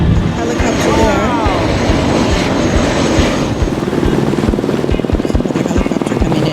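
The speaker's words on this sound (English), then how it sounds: "Helicopter there." A helicopter passes over New York Harbor near the Staten Island Ferry Terminal, heard from a sailboat: a loud, steady rotor thump with a rushing engine roar over wind and water noise.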